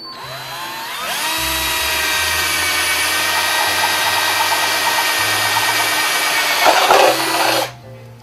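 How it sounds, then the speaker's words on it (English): A power drill bores a hole through the middle of a homemade clock face: the motor whines up sharply, holds a loud, steady drilling drone for about six seconds, then winds down and stops. "I'm just gonna pretty much eyeball the middle and then drill away."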